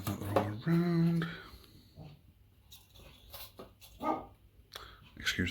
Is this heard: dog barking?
yes